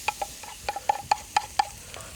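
Onions sweating in butter in a pan, a soft background sizzle punctuated by a series of light, regular clinks and taps of a utensil stirring, with no talk.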